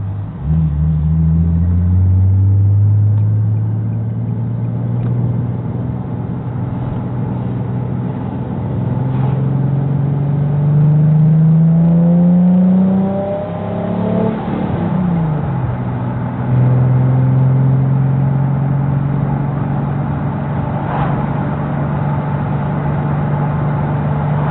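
Car engine in Escape from Tarkov revving and droning, pitch rising and sliding between gears with a brief dip mid-way, loud and close, alone without talk.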